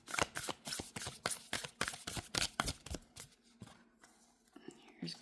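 Animal oracle cards being shuffled by hand in a string of crisp riffling bursts for about three seconds, then quieter handling with faint voices nearby.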